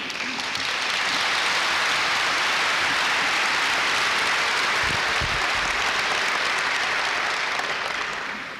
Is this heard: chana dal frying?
no